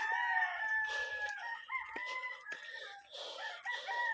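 Chickens and a rooster on a rural farm in the province: the rooster crows in drawn-out calls, with scattered clucking around it, all at moderate distance and fairly quiet.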